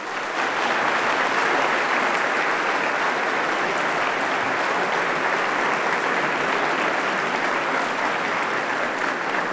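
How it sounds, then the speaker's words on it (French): Sustained, dense audience applause fills the room, steady and loud throughout as a crowd welcomes former French president François Hollande to a university conference at UMONS. "Je vous prie à tous d'applaudir la venue de M. François Hollande."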